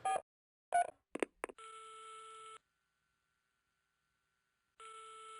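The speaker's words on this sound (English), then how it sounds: "Is this what a ringing phone sounds like in Russia?" A phone rings in the Spycraft spy game: after a few short dialing tones comes a long electronic ring burst, a pause of silence, then another ring, clean and isolated.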